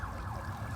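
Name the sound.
sirens on the street in Hollywood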